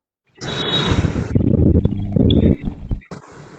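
A student in a chemistry class imitates a lion's roar with their voice, giving one long, loud, rough growling roar of about two seconds, then a short quieter burst after a pause.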